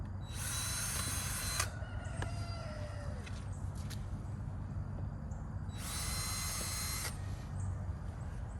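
Two loud bursts of a high-pitched power drill with a small bit whining, each lasting over a second, at a beehive in an apiary, over steady low background hum and outdoor noise.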